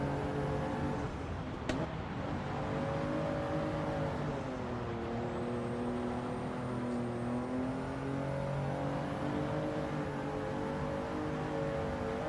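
Racing car engine in a sim racing time trial game, a steady droning whine that shifts pitch as the car accelerates and lifts through corners, loud and continuous with no talk.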